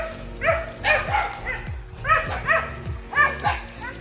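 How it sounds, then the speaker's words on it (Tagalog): Several dogs bark and yip on a farm, sharp repeated barks overlapping at a moderate distance, with a faint whimpering yelp mixed in. "nagtatahulan na yung mga aso"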